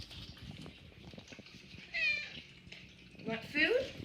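A cat meows for food indoors, two clear close meows breaking through while a person talks nearby over light household noise.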